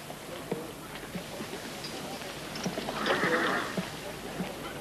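A horse whinnies faintly amid scattered hoof clops and outdoor noise, fairly distant and soft.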